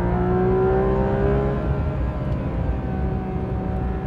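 Porsche 911 GT3 RS (991.2) engine howling at high revs on the Nordschleife, a loud sustained in-car wail with rising and shifting harmonic tones, continuous throughout.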